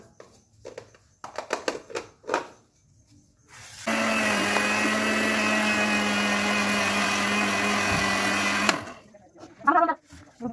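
An electric blender whirs in a jar of cake batter ingredients for about five seconds, a loud steady high-pitched motor drone that starts and stops abruptly, with bumps and handling noises before and after.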